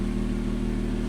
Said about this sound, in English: Gonna give a wee tiny rev, not much, just a wee tiny one.